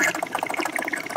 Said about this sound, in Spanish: ya he fijado incluso la película, y ahora mismo se está lavando